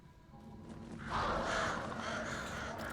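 Crows caw in the video game Alan Wake 2, a harsh, rasping call rising midway over a low, murky ambient backdrop, moderately loud and unaccompanied by talk.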